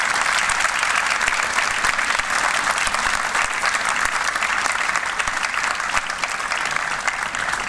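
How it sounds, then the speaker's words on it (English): A convocation crowd at Conrad Grebel University College gives sustained applause for family, friends and donors, a thick, even roar of many hands clapping that continues steadily from start to finish without talk over it. "how about a round of applause for this supporting cast"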